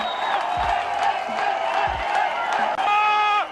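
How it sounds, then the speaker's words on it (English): A cheering crowd sound effect, a continuous roar of many voices with whoops rising above it, loud and sustained to the end. "and when the people are cheering."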